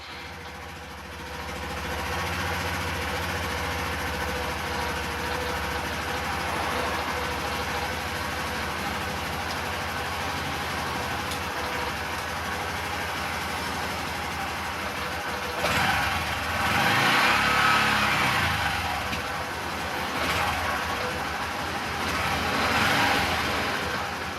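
A Honda CT125 Hunter Cub motorcycle engine runs at a steady idle, a constant close mechanical hum with a slight swell in intensity partway through and no talking over it.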